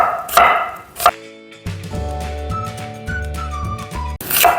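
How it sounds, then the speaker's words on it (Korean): A kitchen knife cuts onion into thin julienne strips on a cutting board while making a perilla sprout stir-fry. A few crisp chopping strikes come at the start and end over steady background music. "양파 조금 넣을 거거든요. 그래서 이렇게 잘라내시고 가늘게 채 썰어 주세요."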